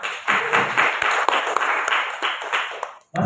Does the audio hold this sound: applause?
yes